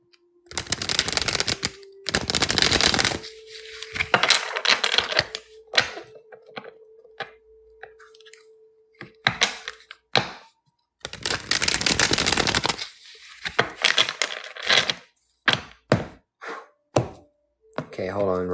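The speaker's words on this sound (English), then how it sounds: "You know I gotta shuffle up all my cards." Deck of playing cards being shuffled during a live psychic reading, with repeated bursts of riffling and card handling between stretches of quiet, close and fairly loud.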